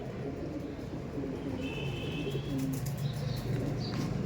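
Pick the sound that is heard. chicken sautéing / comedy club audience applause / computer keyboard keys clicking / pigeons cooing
pigeons cooing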